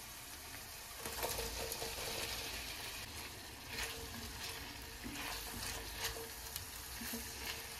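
Fresh shelled fava beans sizzle and crackle steadily in olive oil with sautéed onions, a soft, even frying hiss with occasional stirring scrapes, close by and uninterrupted by talk.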